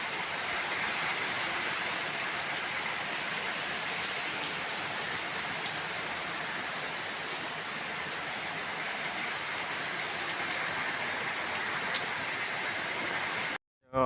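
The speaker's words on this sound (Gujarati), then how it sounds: "હવાનો ફૂલ વરસાદ ચાલુ છે." Heavy rain pours steadily over open fields, a dense, even hiss with no breaks, loud and continuous until a sudden cutoff at the very end.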